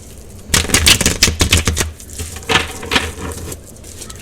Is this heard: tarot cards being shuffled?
yes